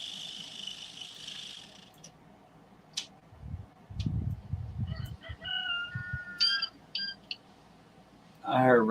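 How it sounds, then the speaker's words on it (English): A rooster crows near a woodland cabin, its harsh rising call with clear harmonic bands near the end of the clip, after scattered chirps from smaller birds and low rumbling handling noise in the middle. "This stupid bird has been crowing almost this entire live stream."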